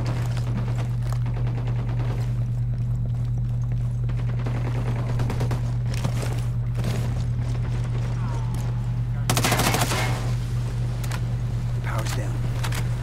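Gunfire in Ghost Recon Wildlands, rapid bursts of shots and crackling volleys over a steady low hum, loud and dense, with voices talking at times.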